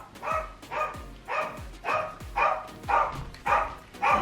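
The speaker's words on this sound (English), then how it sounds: "Oh, the dog's barking." A dog barks repeatedly indoors, about eight evenly spaced barks in a steady rhythm, fairly close and loud, with no talking over them.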